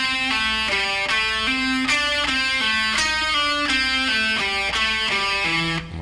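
An electric guitar plays a fast rock lick, a bright, distorted run of evenly spaced notes that repeats in descending steps, loud and continuous for the whole passage.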